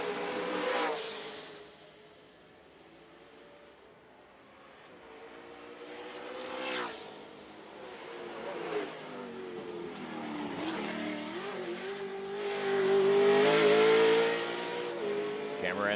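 Competition cars lapping a road circuit in Trois-Rivières during mock qualifying runs, engines rising and falling as they pass at a distance, revving louder near the end, under a commentator's voice.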